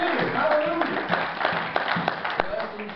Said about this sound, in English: Can we just give him one more applause?